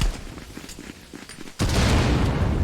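Frag grenades go off in ContractorsVR, a virtual reality shooter: scattered gunshots first, then a sudden loud blast that rolls into a sustained roaring burst.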